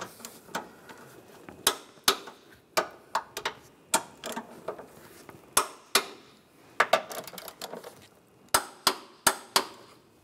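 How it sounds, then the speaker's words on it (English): Sharp metallic clicks and ratcheting knocks come from a wrench torquing engine bolts on a 2010–2016 Cadillac SRX during VVT solenoid replacement, arriving in irregular bursts with quiet gaps between, close and clear. "Then I'm going to torque these bolts to 46 foot-pounds."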